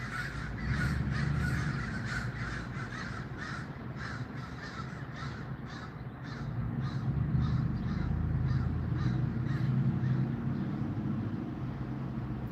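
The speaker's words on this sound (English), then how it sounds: "Oh, here come the crows." A flock of crows caws steadily overhead in a rapid, repeated series of harsh calls over constant low outdoor traffic rumble, with no one talking.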